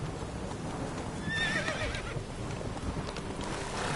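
Roach the horse in The Witcher 3 lets out a loud whinny over a dense game soundscape with hoofbeats and ambient noise.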